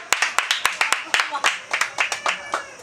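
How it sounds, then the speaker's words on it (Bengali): Hand clapping during a find-the-object party game rings out as a quick run of sharp, evenly spaced claps, close and loud, with voices talking over it. "হাততালি"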